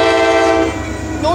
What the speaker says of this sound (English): It's the same train.